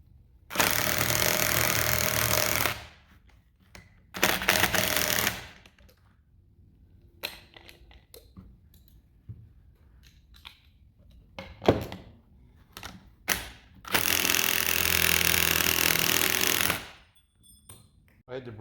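A pneumatic impact gun fires in several long bursts of rapid hammering on the spring spacer nut of a lifted truck, with short clanks and quieter handling noises in the gaps between bursts.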